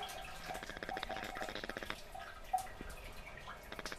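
Water keeps dripping from a shower head after its valve is shut, a faint, close series of irregular small drips and patters over a quiet hiss in a bathroom.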